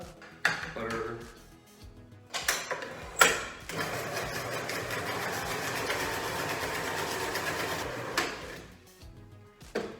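An electric mixer creams butter and sugar for biscotti, a few bowl clatters at first, then a steady whirring drone held for several seconds before tapering off amid more clinks.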